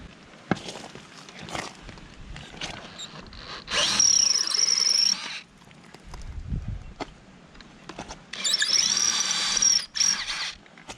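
A power drill whines in two sustained bursts, each a couple of seconds long, drilling out screw holes to 9.5mm, with quieter handling and tapping noises between them.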